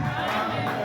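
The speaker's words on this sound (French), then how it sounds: "Est-ce qu'on peut acclamer pour le Seigneur?" A church congregation cheering and acclaiming the Lord: a brief swell of crowd voices shouting together, loud and blended, with no single voice standing out.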